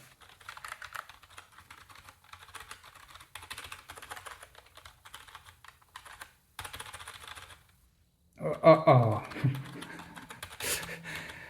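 Someone types on a cheap chiclet-style computer keyboard, with fast, uneven bursts of clacking keystrokes, brief pauses and a louder flurry near the end, close by.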